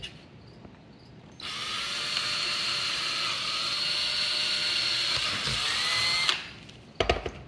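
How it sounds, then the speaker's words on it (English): A power drill whines steadily for several seconds at close range, drilling a hole in a plastic jug, then stops, followed by a couple of sharp clicks. "This end I want to drill 4 holes in"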